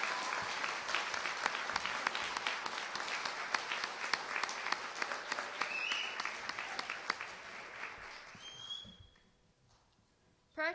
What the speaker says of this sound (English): Let's give a round of applause for our 51st class of practical nursing.